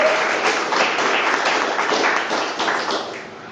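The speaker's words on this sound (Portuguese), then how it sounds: "Palmas para o Senhor Jesus." A church congregation applauding during a sermon, a continuous patter of many hands clapping together, even and sustained before tapering slightly at the end.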